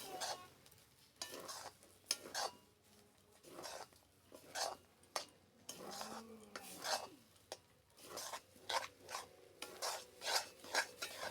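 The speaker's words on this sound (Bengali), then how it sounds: "এখানে দেখো আমি নাড়াচাড়া করে চিনিটা গলিয়ে নিব" Sugar being stirred in a pan as it melts for modak, a dry rasping scrape of the spoon repeating in irregular strokes, close and fairly quiet, with no talking.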